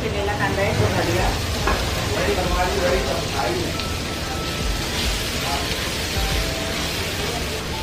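Finely chopped onion sizzles and crackles steadily in hot oil in a pan while vaal usal is cooked, a dense continuous frying hiss with occasional stirring scrapes and a voice speaking over it.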